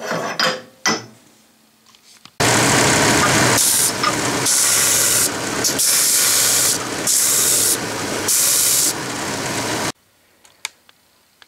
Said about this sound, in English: now I'll do a little uh, band sanding